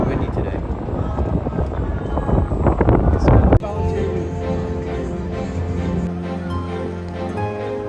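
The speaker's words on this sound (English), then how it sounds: "It's very windy today." Strong gusts buffet the microphone outdoors at Six Flags Great Adventure during Holiday in the Park, with smoke blowing from grill pits, a loud rumbling roar that swells over the first few seconds before giving way to steadier, quieter background noise.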